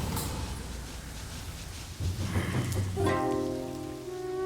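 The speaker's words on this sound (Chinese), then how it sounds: "下雨了，细雨杀人天" Steady rain falling outdoors, a dense even hiss of drops throughout, with low rumbling swells and a tonal musical drone joining partway through.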